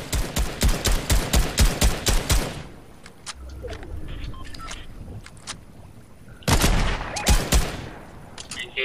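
Rapid bursts of gunfire in Fortnite, loud and close, in a quick string of shots at the start, a quieter stretch with scattered pops, then another fast volley near the end.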